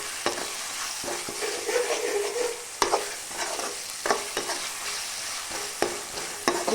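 Ginger garlic paste sautéing in a pan for a chicken green chilli coconut curry, a steady sizzle broken by repeated sharp scrapes and taps of a spoon stirring against the pan.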